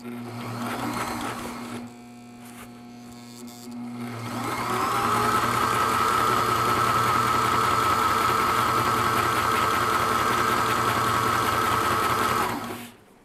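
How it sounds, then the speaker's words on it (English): Sewing machine stitching a seam in fabric for a DIY teardrop camper, a low steady hum at first, a short pause, then a louder fast continuous whir that runs nearby for several seconds before stopping. "Let's see if we can get this one seam to sew."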